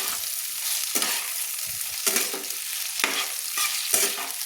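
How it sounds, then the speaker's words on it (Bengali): Potatoes and broad beans are stir-fried in a pan, a constant close sizzle broken by rhythmic spatula scrapes about once a second, with no voices. "দিয়ে সিমগুলো আমি হালকা হালকা লাল লাল করে ভেজে নিচ্ছি।"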